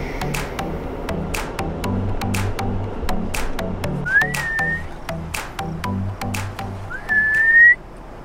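A person whistles two short rising notes at a clifftop camping spot, standing out clearly over steady rumbling background noise and sharp clicks.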